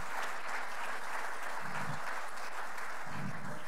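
An audience at a church gathering applauds Pastor Yolande, a steady, dense wash of clapping hands that holds at an even level throughout.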